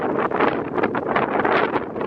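Strong wind buffets the microphone in a steady, rumbling roar with gusty surges, loud and continuous throughout.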